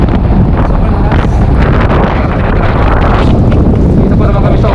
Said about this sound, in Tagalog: medyo malakas ang hangin guys, oh.